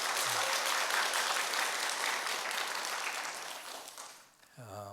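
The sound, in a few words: congregation applause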